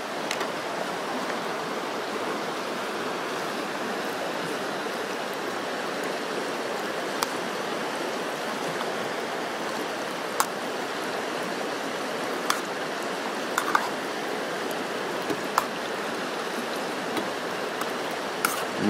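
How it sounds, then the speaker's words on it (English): Cheesy potato soup with bacon simmers in a pot, a steady soft bubbling hiss throughout with occasional small pops and clicks, no talk. "It's already bubbling nicely"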